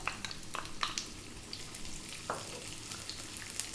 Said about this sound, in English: Let's just drop in those fennel seeds and the onion.